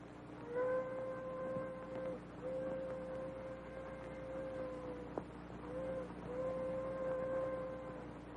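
A steam train in a 1951 Western film sounds several long, steady whistle blasts over a low rumble. The blasts are separated by short pauses, and a single sharp crack comes partway through.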